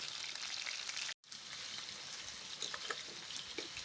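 Marinated chicken breast, seasoned with pepper, thick teriyaki sauce, garlic powder and salt, sizzles steadily in a pan with a dense crackling hiss, broken once by a brief silent gap, with no voices.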